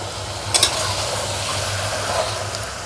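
Mutton being stir-fried with onions in a pan gives a continuous close sizzle and hiss, with a couple of sharp scraping stirs early on.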